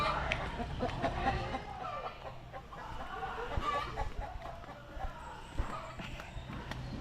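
Chickens cluck around a farmyard, quiet and scattered amid shuffling footsteps and background voices.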